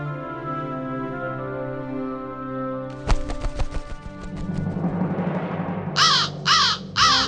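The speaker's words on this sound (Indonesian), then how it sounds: "bisa ngeliat burung gagak ngomong" A crow caws three times in quick succession, loud and close, following a stretch of music and clattering crash sounds.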